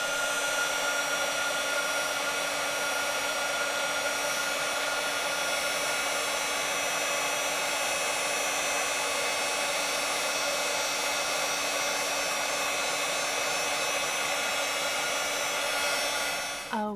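A heat embossing tool blows hot air to melt embossing powder during a card-stamping project, giving a steady, loud fan-like whir with a constant electric hum that runs unbroken for the whole stretch, with no talking.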